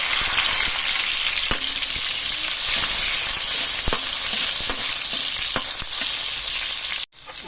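Chopped garlic and onion sauté in a hot pan, giving a continuous bright sizzle close by with sharp clicks from a spatula stirring. A brief dropout comes near the end, and no one speaks.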